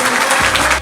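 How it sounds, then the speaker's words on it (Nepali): Wedding guests at a holy matrimony ceremony break into a short burst of loud, close clapping that fills the moment before briefly dipping at the end. "ताली बजाइदिउँ उहाँले"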